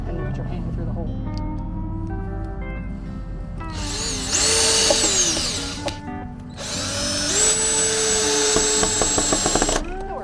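A cordless drill whirs in bursts while driving screws through a cattle panel on a chicken coop rebuild, the motor revving up and down close by over steady background noise, with a person talking.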